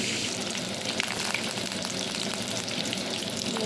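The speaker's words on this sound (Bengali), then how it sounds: "নুনটা একটু পরে দেবো একটু লাল করে ভেজে নিই" Eggplant pieces frying in oil for doi begun, making a continuous, dense sizzle that stays close and fairly loud throughout, with faint stirring under it.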